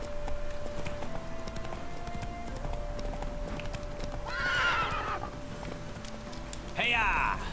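Hooves clip-clop in a steady rhythm while a horse whinnies twice in The Witcher 3, the neighs rising sharply over the running hoofbeats, with video-game ambience underneath.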